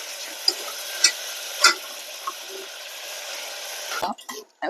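Water poured into a hot pan sizzles with a steady hiss, broken by a few sharp clicks of stirring, and ends in a burst of clatter.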